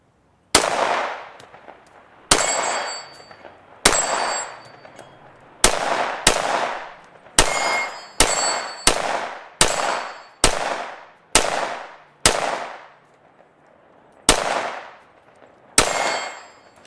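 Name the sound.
gunshots ringing steel plate rack targets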